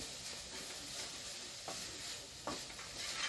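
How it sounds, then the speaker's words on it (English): Goat meat stirred in a cooking pot gives soft, faint scraping strokes over a low continuous sizzle, heard alone without voices. "We stir and stir, and then"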